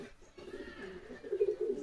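Domestic pigeons in a backyard loft give soft, low rolling coos, a steady murmuring run that swells louder toward the end of the short stretch.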